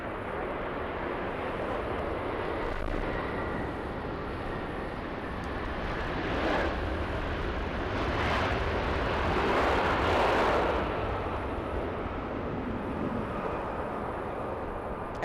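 Singapore Airlines flight 36, a long-haul airliner arriving at LAX from Singapore, passes as a continuous, moderately faint jet rumble that builds toward the middle and fades slightly, with no voices over it.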